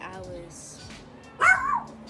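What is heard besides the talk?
dog barking in the background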